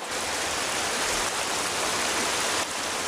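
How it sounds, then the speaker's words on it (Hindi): Steady, dense rain pours down in a cartoon scene, a continuous loud hiss of falling water with no voices and a slight dip near the end. "ये बारिश कहाँ से आ गई?"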